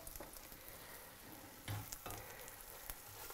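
Eggs with a splash of cream scrambling in a frying pan, a quiet steady sizzle with soft scraping stirs and a couple of louder bursts as the mixture is pushed around.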